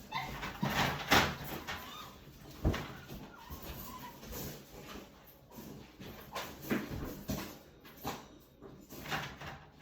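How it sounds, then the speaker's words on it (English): Puppies whimpering and giving short yaps indoors, restless high whines and scrabbling recurring throughout at close range, with occasional door-like bumps and knocks between them. "the dogs get kind of hectic, you know, sometimes"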